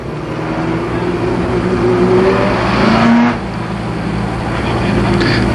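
ARCA Pro 4 race cars rumble and rev as the field lines up to restart at Columbus Motor Speedway in 1990, a loud, steady engine roar with rising pitch swells from passing cars.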